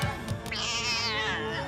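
A cat lets out a long, drawn-out meow that rises and wavers, loud and close, with no talking.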